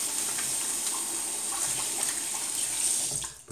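Tap water runs steadily into a sink, rinsing shaving lather off a razor or face after a shave, a continuous close hiss that drops off abruptly at the end.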